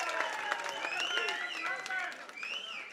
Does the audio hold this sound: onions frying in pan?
no